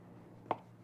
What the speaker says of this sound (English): So all you have to do is slice it